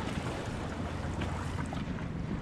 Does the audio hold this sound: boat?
yes